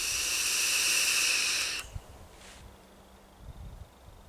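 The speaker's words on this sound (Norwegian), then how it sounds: "Så vi bare har oss litt damp." Steam hissing at an outdoor forest camp: a loud, steady hiss lasts nearly two seconds and then cuts off, leaving quiet outdoor ambience with soft rustles and faint thumps.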